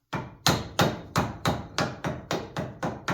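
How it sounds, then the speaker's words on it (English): A hammer taps a bearing down into a New Holland tractor's four-wheel-drive drop box, with ten sharp metallic strikes in a steady rhythm, close and loud, with no talking. "so I gotta hammer it down"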